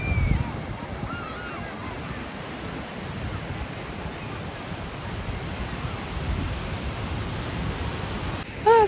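Rough sea crashing on a shore, a continuous loud roar of surf and wind with surging swells, close by and largely alone, ending in a brief burst of other sound.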